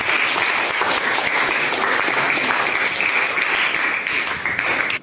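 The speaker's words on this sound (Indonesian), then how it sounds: "tepuk tangan untuk Esa." Steady, dense applause from a class of students in a classroom, clapping for a classmate, loud and continuous for about five seconds before cutting off at the end.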